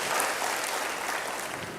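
A church congregation claps together in praise, a brief, even wash of applause with no voices over it.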